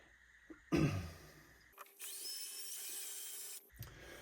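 A cordless drill drives rack screws into a pre-amp equipment rack, giving a brief clunk and then a sustained, whining motor run of about a second and a half, close and moderately loud with no voices.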